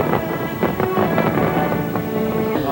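Celebration fireworks over Hong Kong on the night of the 1997 handover, a dense run of crackling bursts and booms with broad, rumbling noise throughout, loud and continuous.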